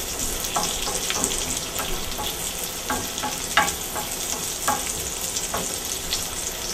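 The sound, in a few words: cherry tomatoes sautéing in a pan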